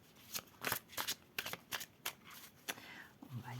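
Tarot cards handled and laid down during a reading, a series of quick, crisp slaps and shuffling flicks, close and fairly quiet, arriving in an irregular rhythm.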